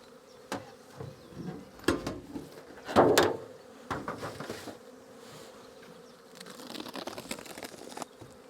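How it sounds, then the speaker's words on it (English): Honeybees buzz around an open hive during an early spring inspection, a soft close drone broken by scattered knocks and clatters from handling the frames. "A few bees in the top of this one, not many"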